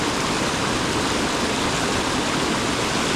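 Big waterfalls on a river in Maine, a steady dense roar of rushing water, loud and close, with no other sounds over it.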